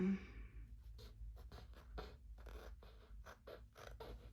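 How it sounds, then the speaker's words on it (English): Small scissors snip around the edges of a craft button, giving a series of short, crisp cutting clicks and scratchy contacts in a quiet room, with no talking. "I'm just going to take my little scissors. And as you can see, I'm just going to trim."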